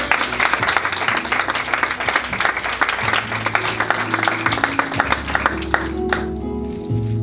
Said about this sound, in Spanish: ¿Cuántos pueden aplaudirle al Señor?